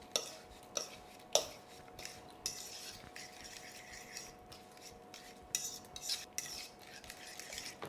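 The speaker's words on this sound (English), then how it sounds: "Now mix little bit. Combine all the ingredients together." Banana cake batter ingredients stirred together in a bowl, with a spoon or whisk making repeated scraping and clinking strokes in an irregular rhythm, close and fairly quiet.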